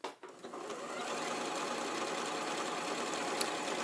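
An Elna 720 PRO sewing machine sews a lock stitch, starting with a short click, then running a steady, close mechanical whir for several seconds with no speech.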